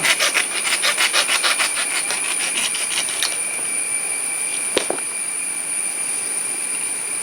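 A hand saw cuts a section of PVC pipe with quick back-and-forth strokes for about three seconds, then stops, leaving a faint background hum and a single sharp knock.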